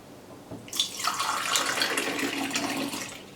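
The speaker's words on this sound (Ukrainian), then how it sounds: "Кран із нержавіючої сталі" Water pours from a stainless steel tap into a glass, a steady close splashing rush that starts abruptly after a brief quiet moment and continues without talk.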